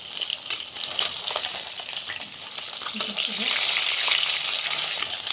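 Tilapia fish fry in hot oil, a continuous close sizzle with spitting crackles that swells louder toward the end, with light scraping of a utensil.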